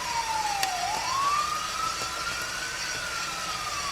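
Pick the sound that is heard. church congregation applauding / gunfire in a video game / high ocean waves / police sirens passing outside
police sirens passing outside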